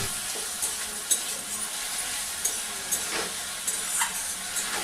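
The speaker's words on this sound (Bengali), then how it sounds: "সামান্য পরিমাণ জল দিয়ে মশলাটাকে খুব ভালোভাবে কষিয়ে নেব।" Spice paste of turmeric, chilli and cumin powders with a little water fries in a pan, a continuous bright sizzle with occasional soft stirring scrapes, close and steady.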